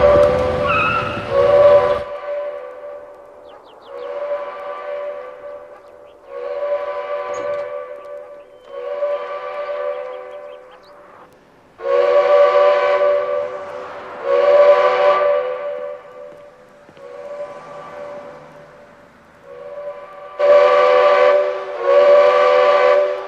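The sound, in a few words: powerhouse steam whistle blowing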